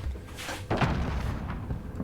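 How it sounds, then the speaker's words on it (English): A battle royale shooter plays a distant in-game explosion, a muffled boom rolling over a dense, rumbling game soundscape with a few quieter thuds following. "Another explosion."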